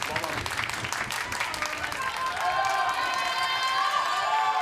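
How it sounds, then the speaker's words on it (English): Spectators at a foosball world cup men's singles final break into applause and cheering, a dense wash of clapping that swells and holds with high whistles toward the end. "Crowd coming alive as Ryan Moore will put it back into play."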